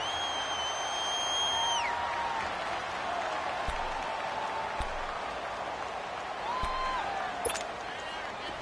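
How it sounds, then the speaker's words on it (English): Steady crowd roar inside a domed stadium in a football video game, broad and continuous with a swell near the start, faint whistle-like tones drifting over it and a few soft thumps. "The crowd here in the Dome making things difficult."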